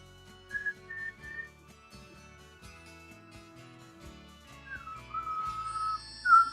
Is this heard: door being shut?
no